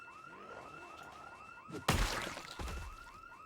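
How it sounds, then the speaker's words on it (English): In a video game, a car alarm whoops in rapid repeating chirps, then a loud crash and shattering burst cuts in while the alarm keeps sounding. "oh wow, you can hear the alarms going off."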